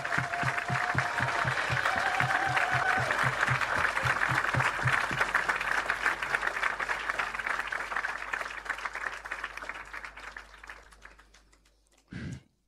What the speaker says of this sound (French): on veut acclamer le Seigneur